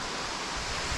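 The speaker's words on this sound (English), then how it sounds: "beautiful waterfall." A waterfall on the Pacific Crest Trail roars as a dense, continuous broadband rush, close and steady throughout with no voices.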